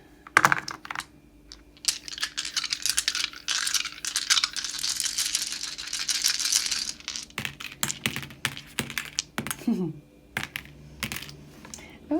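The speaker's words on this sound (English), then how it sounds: "So we're going to be rolling the third set of dice," Eight dice rolled together during a tarot reading, a dense rattling clatter building over several seconds, then scattered sharp clicks as they settle, with a voice speaking softly in places.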